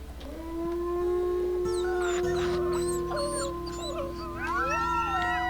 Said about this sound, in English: I love the little baby howls.